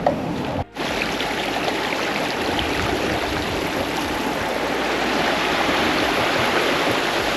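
A stream flows steadily beside a lake on a coastal walking trail near a waterfall, a loud, continuous rushing wash of water close by, interrupted only by a brief dropout near the start.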